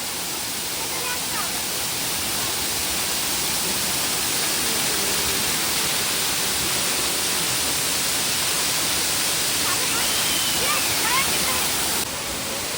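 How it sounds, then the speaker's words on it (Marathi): Ghonsari waterfall's heavy monsoon flow pours down in a steady, dense roar that fills the whole stretch at an even, loud level, close by and unbroken. "या ठिकाणीवरनं धबधब्याचे सर्व पाणी खाली जात आहे."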